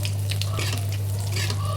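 Fish frying in hot oil gives a close, continuous crackle and spatter over a steady low hum, with bursts of sharper spitting coming and going.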